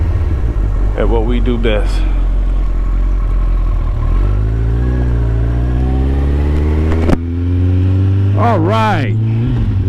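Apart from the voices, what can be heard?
Kawasaki ZX14r motorcycle engine revving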